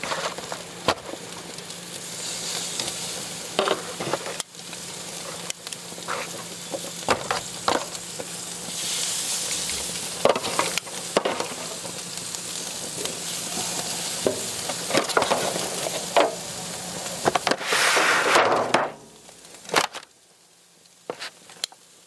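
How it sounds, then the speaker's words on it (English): Pork chops and mock pork tenderloins cut from a pork loin sizzle steadily on an outdoor backyard grill, a continuous close frying hiss with occasional pops and handling clatter before the sizzle drops away near the end. "we're gonna grill off the pork chops and the mock pork tenderloins"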